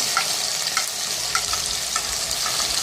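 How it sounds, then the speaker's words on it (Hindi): Minced meat keema fries with chili powder, turmeric and salt in a pan. A steady close sizzle runs throughout, with soft stirring scrapes recurring about every half second. "अच्छी तरह से हम इसको भून लेंगे।"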